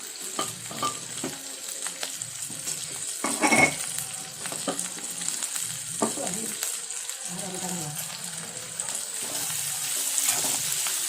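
Ingredients for Bombay chutney sauté in a pan with a continuous sizzle, broken by stirring scrapes and clanks and a louder burst near the middle, with faint background voices.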